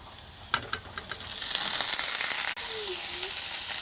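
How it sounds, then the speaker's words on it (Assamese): Onions frying in a pan with a soft sizzle and hiss, a few clinks of a utensil early on and a brief scrape midway, close and fairly quiet. "পিঁয়াজখিনি এনেকৈ কিছু সময় ভজা লগাম।"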